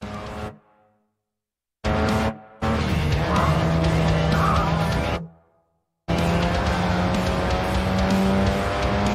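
Race car engine in the mobile game Racing Master revs hard in loud bursts broken by abrupt silences, with a sustained squealing tone as the handbrake drift slides through a corner.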